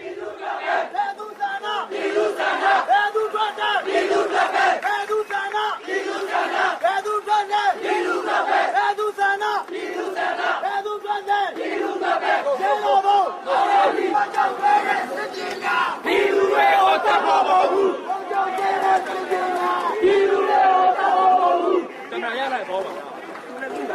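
A large crowd of protesters shouts and chants continuously in a city street during the 2007 Burma uprising against the military junta, many voices overlapping loudly and close by in sustained waves of yelling.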